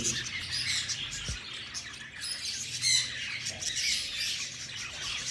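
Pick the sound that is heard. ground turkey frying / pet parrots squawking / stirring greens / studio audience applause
pet parrots squawking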